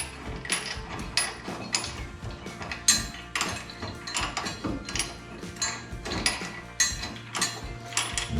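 A ratchet clicks in short bursts while bolting a Hayman Reese tow bar onto a 2018 Ford Ranger, with sharp metallic ticks and clanks repeating irregularly up close and no talking.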